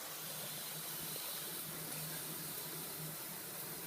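Hot shower water runs steadily in a steamy bathroom, producing a continuous, even hiss of spray with a faint low hum beneath it. No voices are heard.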